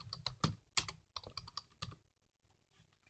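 Rapid keystrokes on a computer keyboard while entering a label in parish mapping software, a close run of crisp clicks in uneven bursts followed by a brief pause and a few lighter taps, with no talking.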